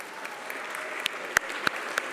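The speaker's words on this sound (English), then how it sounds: "feel free to stand up, clap for those people" Graduates and their audience at a commencement ceremony applaud in a steady, moderately loud patter of clapping, with a few sharper, closer claps standing out.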